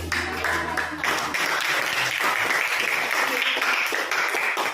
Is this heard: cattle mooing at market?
no